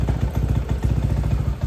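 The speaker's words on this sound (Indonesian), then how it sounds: "Mesinnya sudah menyala." A bored-up Honda PCX 160 scooter engine with a 63 mm kit idles close by, a loud, lumpy pulsing chug with mechanical clatter repeating in a steady rhythm, with no talking.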